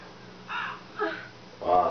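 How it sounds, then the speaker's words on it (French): A crow cawing in the Tomb Raider 3 video game, three harsh caws spaced about half a second apart over quiet game ambience, the last one loudest and nearest. "le corbeau vient encore me déranger"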